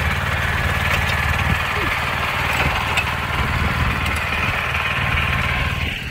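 A small walk-behind cultivator engine runs steadily while rotary tilling farm soil, a continuous close buzzing drone with a throaty low rumble that holds even throughout.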